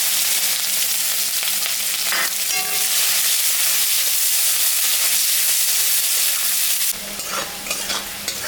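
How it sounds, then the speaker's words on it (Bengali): Onion frying in oil with cardamom, dried chilli and cumin, over oil left from frying fish, makes a loud, steady sizzle with stirring scrapes throughout and a brief drop in level near the end. "পেঁয়াজটা ভাজা হয়ে গেছে"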